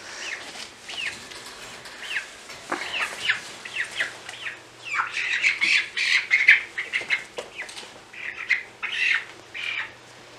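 Delaware chicks squawking loudly and repeatedly in a brooder, shrill overlapping peeps and cries with some wing flapping, close by and without speech.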